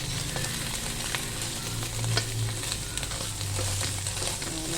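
An egg fries in a pan over gentle heat with a steady, close sizzle and soft crackling that continues evenly throughout.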